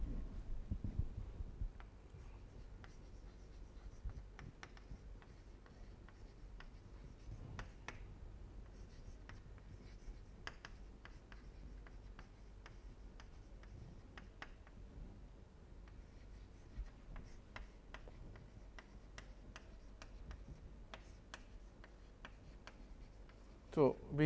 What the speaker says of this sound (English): So let me write down this definition.